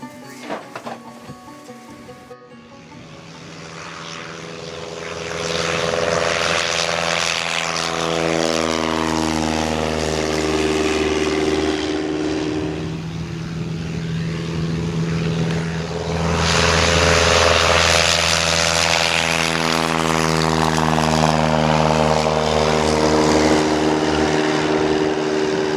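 A propeller plane laden with moose meat climbs away from an Alaska hunting camp, its engine drone loud and steady with a rising whine, then fading and swelling again as it departs.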